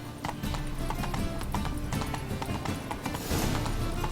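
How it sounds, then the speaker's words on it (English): A horse in The Witcher 3 video game clip-clops at a walk, with steady, evenly spaced hoof strikes on hard ground, close and clear against faint ambient game sound. "Slow Roach, now. stop eating. Whoa."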